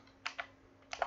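A few keystrokes typed on a computer keyboard while entering a project name, soft close clicks in two small groups separated by a short pause, in a quiet room.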